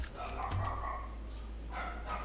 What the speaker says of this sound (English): Those dogs are going ham in there, bro.